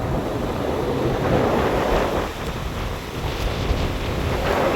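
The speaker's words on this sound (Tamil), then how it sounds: "பாருங்களேன் அவ்வளோ பெரிய அலைகள் உண்டு." Large sea waves surge onto a shore in strong wind, a continuous loud roar of surf and rushing water with gusty wind noise on the microphone and no voices.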